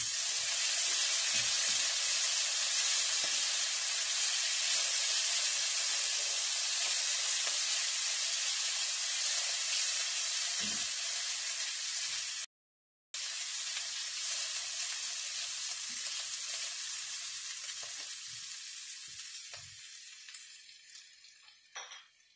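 Garlic sizzles loudly in a pan for a chicken and bacon pot pie: a dense, continuous frying hiss with a momentary dropout that gradually fades toward the end.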